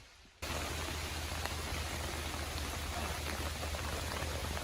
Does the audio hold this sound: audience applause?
no